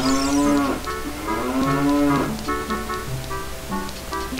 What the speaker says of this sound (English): Some cows.